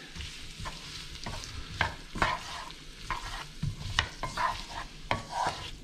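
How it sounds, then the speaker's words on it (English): Vegetables stir-fry in oil in a wok, with a low sizzle under repeated scraping and tossing strokes of a spatula at an uneven rhythm, close and fairly quiet. "I'm now going to stir fry everything in the wok until it softens quite a lot"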